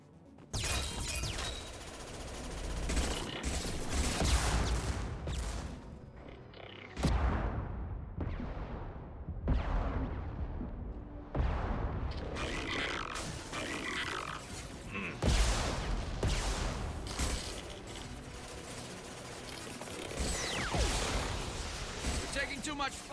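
Gunfire and heavy weapon blasts from the sci-fi shooter video game Mass Effect 2, a dense stream of bursts and impacts running throughout, with game voices talking over the firefight.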